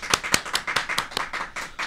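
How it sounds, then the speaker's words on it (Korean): Studio audience clapping in welcome at a Korean talk show, a close string of distinct, slightly uneven claps from a small group, about a dozen sharp hits in quick succession. "큰 박수로 환영해 주십시오."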